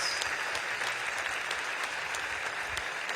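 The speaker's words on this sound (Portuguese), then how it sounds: "E vamos aplaudir o Senhor Jesus bem forte" A church congregation at a missions symposium applauds loudly and steadily, a dense, sustained wash of clapping from a large crowd that continues throughout without a break.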